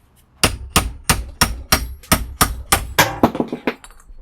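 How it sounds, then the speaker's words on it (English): Steel punch hammered through a brass door knob held loosely in a vise: about a dozen sharp metallic strikes at a steady, fairly quick rhythm, loud and close, ending in a few lighter, ringing taps. "I'm going to grab my punch and I'm just going to punch it through."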